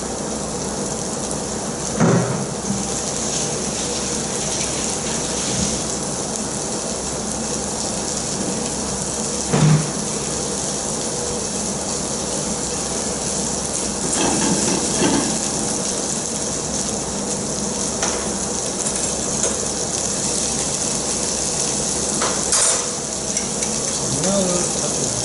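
Steady, close, hissing sizzle of paprika-seasoned meat searing hot in an uncrowded pan, continuous throughout with a few brief pops and spatters.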